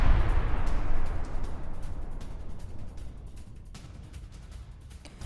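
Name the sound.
fuel tank explosion in Iraq, news footage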